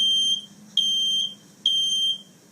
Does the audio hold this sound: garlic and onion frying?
no